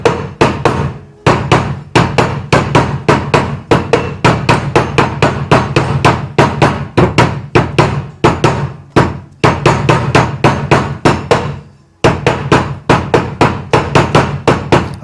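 Rapid, steady hammer blows on a Lambretta 125 LD scooter engine part during engine reassembly, loud and close, with brief pauses between bursts of continuous striking.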